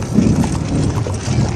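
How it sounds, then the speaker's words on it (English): Horse hooves clip-clop on a forest path in snow, a loud, close, steady run of hoofbeats with no talking. "the horse began to go faster. It found a path, and it followed it."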